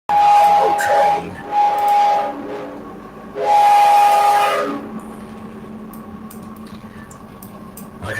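An old steam train's whistle sounds in two loud, sustained blasts, a shorter one and then a longer one, with hissing steam and rumbling in between and after.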